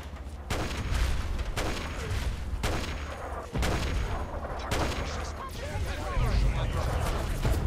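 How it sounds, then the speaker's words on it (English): Enemies in Fallout 3 fire guns in a steady barrage of dense, overlapping shots and bursts, loud and continuous throughout, with booming low rumble beneath. "Well, they're firing like crazy, but I've no idea on what."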